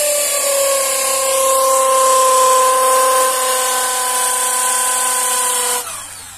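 A power drill bores holes into wood while a small wooden stool is built, one loud, close, high-pitched whine lasting several seconds before it winds down and stops.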